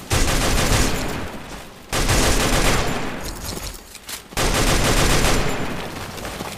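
Rapid sustained gunfire bursts in the Garena Free Fire Max zombie hunt mode, loud and dense, three long volleys separated by short gaps.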